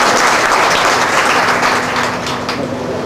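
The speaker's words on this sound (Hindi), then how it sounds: "एक बार सब मिलके तालियां बजा" Loud, dense applause from an assembled audience clapping together at an award event, steady and continuous throughout with a faint hum underneath.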